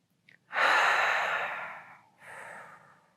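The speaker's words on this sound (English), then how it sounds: "Take that breath." A single deep breath during a seated neck stretch: a short intake, then a long, soft, airy exhale that fades, followed by a second quieter breath out, close and alone.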